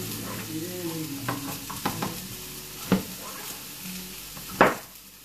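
Cut potatoes sizzling and frying in extra virgin olive oil in a pan, a steady close hiss with stirring scrapes and a couple of sharper clatters, no talking.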